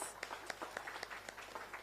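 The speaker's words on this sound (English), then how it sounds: "Kindly, let's give her another round of applause, please." An audience at a university Gender Awareness Day event applauds, with moderate, steady clapping in a quick, even patter.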